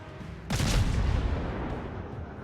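Battleship gunfire in a naval video game, a sudden heavy boom that strikes after a short quiet lead-in and then rolls into a long, rumbling decay.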